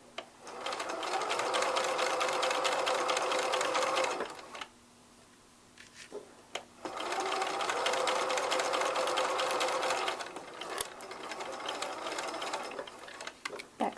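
A sewing machine stitches a flat fell seam in two steady runs of rapid mechanical whirring, about four seconds each, separated by a short quiet pause for readjusting, close and fairly loud with no talk.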